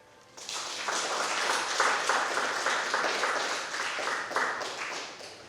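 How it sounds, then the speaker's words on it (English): A small audience at a poetry reading applauds a poet, the clapping rising quickly from quiet, holding steady for several seconds, then slowly fading. "Another round of applause for Ed Krasnow."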